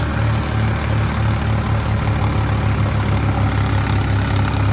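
Farm tractor engine idling steadily up close, a loud low rumble with a regular thudding pulse and no break throughout.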